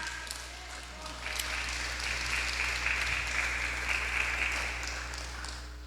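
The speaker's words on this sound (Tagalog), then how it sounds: "Palakpak!" A church congregation applauds at a session, steady moderate clapping over a constant low hum, lasting several seconds before fading slightly.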